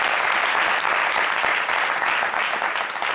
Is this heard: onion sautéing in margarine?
no